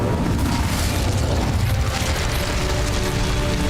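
A fire spell cast in Hogwarts Legacy: a continuous loud rumbling roar with mechanical rattling and crackling bursts, sustained and dense throughout without a break.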